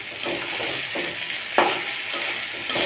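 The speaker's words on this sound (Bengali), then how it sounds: "এত তেল ছিটতেছে হাতের উপরে" Salted hilsa fish frying in a pan, with a steady, loud sizzle of spattering oil and a few sharper pops and scraping stirs throughout.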